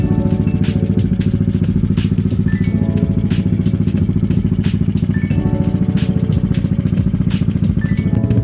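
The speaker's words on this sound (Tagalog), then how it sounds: "Kung mapapansin, napakatahimik ng makina," A 160cc Yamaha Mio Sporty motorcycle engine with a freshly refreshed top end idles nearby with a steady, rapid mechanical putter and faint clatter, even and unchanging throughout.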